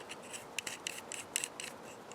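Riv nut screwed onto the threaded end of a worn riv nut tool, heard as a quick series of small metallic scrapes and ticks, close and quiet, with no one talking.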